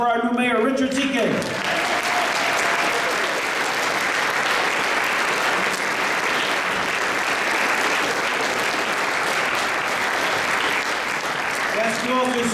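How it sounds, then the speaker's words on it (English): A crowd at a 2017 inauguration ceremony in Connecticut gives the new mayor a long, full round of applause, dense and sustained from start to finish, with brief speech at the edges. "Let's have a nice round of applause for our new mayor"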